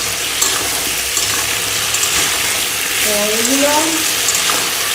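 Shrimp and potatoes fry with cumin, turmeric, salt and a little sugar, giving a steady close sizzle with light stirring throughout, while a person speaks briefly near the end.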